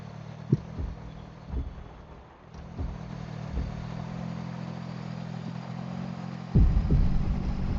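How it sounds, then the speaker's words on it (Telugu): A heartbeat sounds in a horror video game: low, dull thuds repeat at intervals over a steady droning hum, with a heavier thump near the end. "హార్ట్ బీట్ అవుతున్నట్టు."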